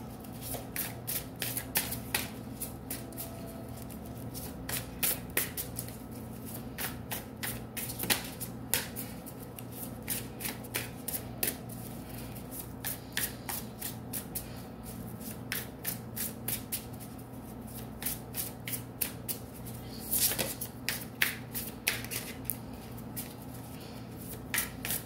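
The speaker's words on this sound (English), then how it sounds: "Let's clarify the cards to get some additional messages." Tarot cards are shuffled continuously, with fast, crisp riffling clicks and flutters in rapid repeated bursts, close and fairly quiet, with no talking.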